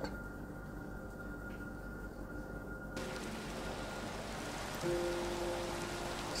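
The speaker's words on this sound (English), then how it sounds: "You can hear the rain coming down outside." Steady rain falls outside, a continuous broadband hiss of drops heard from indoors, fairly soft and even throughout with no talking.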